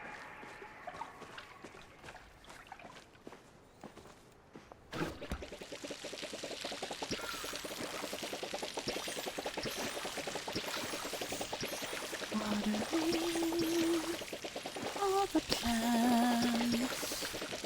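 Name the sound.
watering plants with a watering can in video game Palia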